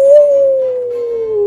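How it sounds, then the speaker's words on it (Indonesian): A cartoon silver fox gives one long, wild howl that slides slowly down in pitch, loud and close, with no voices over it. "Sang rubah perak imut pun melolong liar."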